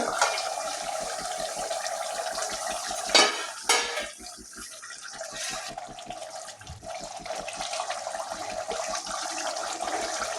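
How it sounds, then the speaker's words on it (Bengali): A metal lid lifts off a pot of simmering potatoes for a Bengali rohu fish head dish, a brief clank and scrape standing out over a steady bubbling boil and faint kitchen hum. "এবারে ঢাকনাটা খুলবো, আলুটা কতটা সিদ্ধ হয়েছে।"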